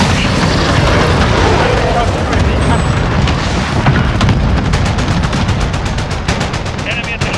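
Cluster strike explosions in the Modern Warfare game, a dense rolling barrage of booms and rapid gunfire that sounds close and loud, ending in a fast string of sharp detonations, with radio chatter mixed in.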